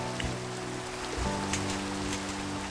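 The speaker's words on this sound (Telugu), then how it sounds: "ఏంటైనా వర్షం పడిందా?" Steady rain falls in Minecraft, a continuous even hiss of drops spread across the whole clip with a low droning hum beneath, no voices over it.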